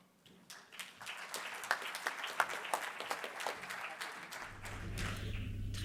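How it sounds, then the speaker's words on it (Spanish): Applause at the opening lecture of an academic colloquium, as an audience welcomes a speaker: brisk, uneven clapping that builds within the first second and continues steadily, with a low hum entering toward the end. "Recibamos con un aplauso a Nicole D'Almeida"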